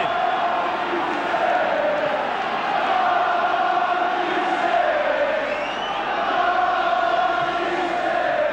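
A big stadium crowd at a 1986 St Helens versus Australia rugby league match roars steadily and loudly after a score, a sustained wall of cheering with a commentator's voice running over it.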